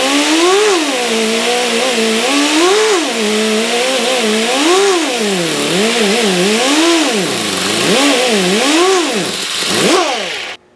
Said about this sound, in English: You're polishing the frets, but you don't want your die grinder wide open.